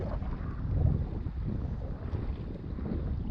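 Steady wind buffets the microphone while paddling a kayak at sea off the Capricorn Coast, a continuous low rumble with faint water wash, and no voices.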